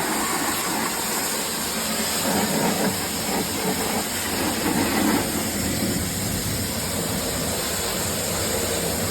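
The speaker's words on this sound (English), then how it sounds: "next up got the pressure washer out and gave the base a good clean" A pressure washer cleans the base of a slightly translucent plastic tank once used for livestock food, giving a loud, steady spray hiss that runs unbroken from start to finish.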